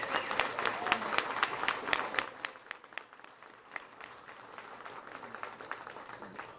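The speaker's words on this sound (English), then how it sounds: "So let's give them a round of applause" Applause at a supermarket grand opening for the store managers, a crowd clapping in a lively burst that tapers to scattered, sparser claps, with faint murmuring from the room.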